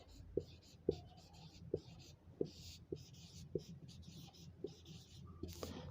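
Quiet, evenly spaced taps and scratches of writing on a board during a Hindi pedagogy lesson, with soft strokes repeating about every half second and faint room noise behind.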